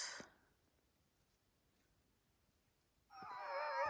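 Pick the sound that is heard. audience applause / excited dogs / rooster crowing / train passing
excited dogs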